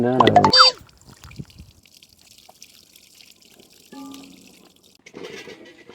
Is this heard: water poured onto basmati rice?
yes